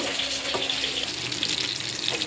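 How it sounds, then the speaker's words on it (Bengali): Steady hiss of a fish head frying in hot oil, with faint clinks and a watery crackle throughout, close and moderately loud. "মাছের মাথাটা ভাজা হয়ে গেছে, তুলে নেব।"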